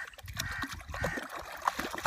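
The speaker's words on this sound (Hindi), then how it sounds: "और हम पानी में पाँव भी धो रहे हैं" Feet being washed in water outdoors in a Pakistani village, with uneven splashing and trickling close by amid rustling outdoor background noise.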